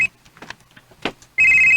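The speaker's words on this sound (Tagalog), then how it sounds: "Uy, si Jinky magkaning nanawag" A telephone rings with an incoming call, a sustained loud electronic ring that starts suddenly near the end after quiet background sounds.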